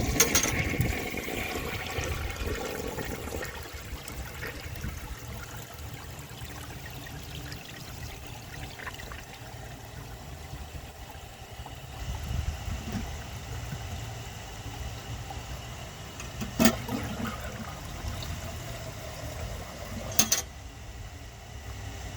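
The tank of a 1960 Rheem-Richmond Claymore toilet refills after a flush with a continuous low rush and trickle of water, faint and steady, with a couple of brief clunks near the end.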